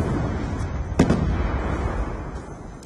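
Hellspawn missile explosions in a video game, heard as a dense, loud rumbling blast with one sharp bang near the start, then a sustained roar that slowly fades.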